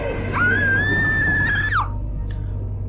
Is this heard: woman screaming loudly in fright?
yes